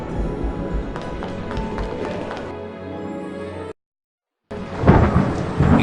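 Thunderstorm ambience from the Harry Potter and the Prisoner of Azkaban video game: steady rain and rumbling thunder with a few sharp taps, a brief silent gap, then a louder thunder roll.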